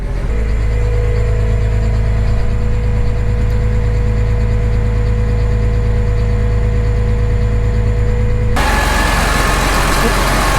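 A diesel machine engine running on number one fuel drones loud and close in a steady, unbroken idle, its tone shifting abruptly near the end as a brighter whir joins in.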